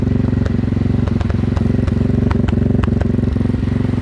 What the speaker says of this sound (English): so I'm not sure what all the misfiring's about